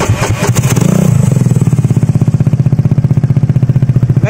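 Suzuki Burgman Street scooter fitted with a full Akrapovic exhaust and its silencer removed, revved up loudly near the mic, then settling into a steady, rapid, throbbing idle pulse.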